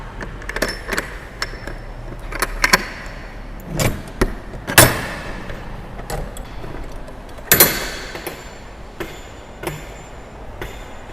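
The door of a Toyota Revo B-cab refrigerated freezer box is opened, with several sharp metallic latch clunks and bangs spread over the clip against a quiet background, close by and without speech.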